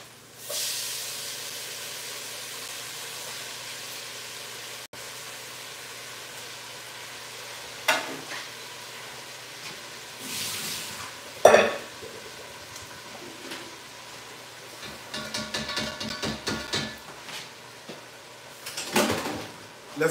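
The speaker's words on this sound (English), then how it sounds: "We got bacon, leeks, and corn in the pan." Bacon, leeks and corn frying in a pan, with a continuous close hiss and sizzle, broken by louder bursts of stirring and scraping in the second half.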